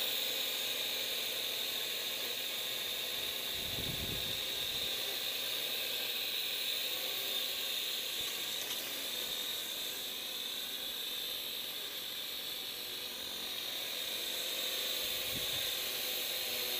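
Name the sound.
wind blowing outdoors around hovering drone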